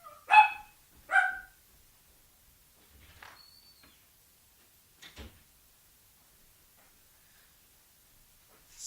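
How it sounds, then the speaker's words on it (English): A pet dog gives two sharp, close barks, then the room goes quiet apart from a few faint thumps and a soft knock later on. "And there goes my dog."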